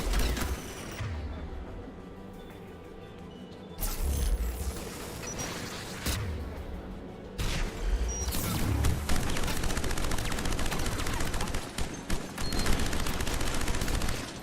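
Sustained gunfire from defense guns guarding a tower in the video game Mass Effect, a dense, loud fusillade of bursts with a couple of heavy booms, growing continuous and rolling in the second half.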